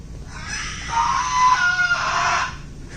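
A person lets out a long, shrill, raspy screech imitating a raptor dinosaur, rising and wavering for about two seconds before cutting off.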